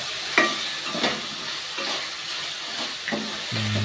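Homemade chicken fries in a pan with a continuous sizzle, while a spoon scrapes and stirs it in repeated strokes every second or so, ending in a brief low clunk; nobody speaks.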